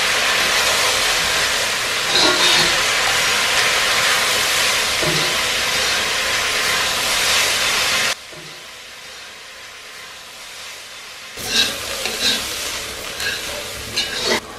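Sliced onions and curry leaves fry in coconut oil for a mutton curry, a loud close sizzle with stirring that cuts out abruptly partway, then returns with scraping stirs.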